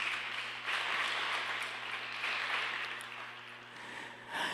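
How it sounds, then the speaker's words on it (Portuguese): Congregation clapping together in a church after a call to applaud, a broad sustained patter of many hands with steady low hum underneath, continuing for several seconds without speech. "Uma salva de palmas a Cristo Jesus."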